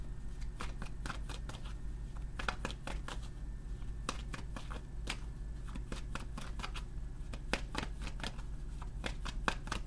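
Tarot cards shuffled in quick riffling bursts of papery flicks and slaps, steady and close throughout with a low room hum beneath and no talking.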